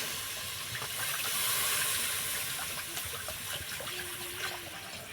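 Water goes into a hot frying pan of vegetable stalks and potatoes, giving a soft steady hiss and bubbling that swells briefly and then settles, fairly faint and close.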